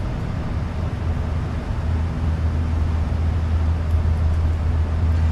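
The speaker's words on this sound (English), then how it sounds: "Listen to them engines, man. It sounds so good." Airliner engines in a flight simulator game roar as a steady low drone with a constant hum, loud and unbroken, with no speech over them.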